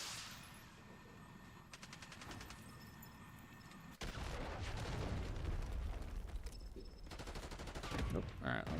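Archangel weapon fire in a video game arrives as fusillades of rapid gunshots and booming impacts, quieter at first and then louder and denser after a sudden jump partway through, with some voice mixed underneath.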